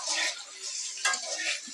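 Rice and lentils for a restaurant-style bhuna khichuri are stirred as they lightly fry in a pan, giving a brief, soft scraping sizzle with a couple of faint utensil knocks.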